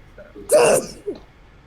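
A single sharp sneeze bursts out close to the microphone, followed by a brief softer vocal sound, in an otherwise quiet indoor setting.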